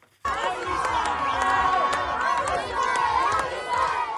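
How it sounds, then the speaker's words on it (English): Crowd at a military base in southern Israel cheering as freed hostages arrive, a steady excited din of shouts, whistles and overlapping voices that continues throughout. "The hostages were greeted by a cheering crowd as they arrived at a military base in southern Israel."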